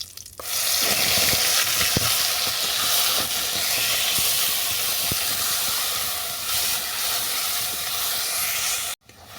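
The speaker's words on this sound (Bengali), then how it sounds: "কালো জিরে ভাজা হয়ে গেলে দিয়ে দেবো পেস্ট করা শাক।" Spinach paste frying in hot oil with nigella seeds gives a loud, steady sizzle and hiss for about nine seconds, broken by a few faint stirring clicks, then cuts off abruptly.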